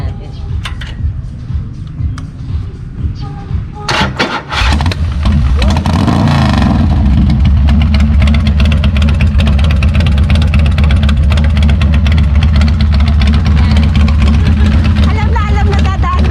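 A stage 2 tuned motorcycle engine on a cruiser, first idling with a low rumble, then revved hard into a loud, sustained roar that holds close and strong for the rest of the clip, with voices talking over it.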